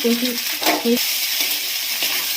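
Chicken pasta with fried vegetables sizzling in a pan while being stirred, a steady frying hiss with a few tonal scraping clicks from the utensil, close and without talk.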